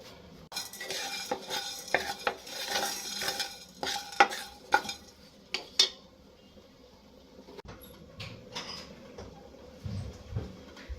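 A spoon scrapes and stirs cumin, coriander seeds, peppercorns, dried chillies and lentils dry roasting in a pan, with irregular close clicks and faint rustling, without any talk.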